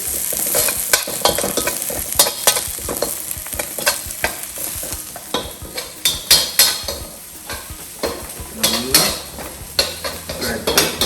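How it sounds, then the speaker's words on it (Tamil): Cauliflower sautéing in a pan for restaurant-style gobi manchurian: a spoon scrapes and clanks against the metal again and again over a continuous sizzle, close and fairly loud, with no voices. "அதை போட்டு நல்லா சாட்டை பண்ணுங்க"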